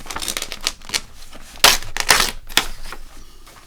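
Pages are ripped out of a book in a quick series of sharp, close papery tears and crinkles, several loud rips standing out amid softer rustling.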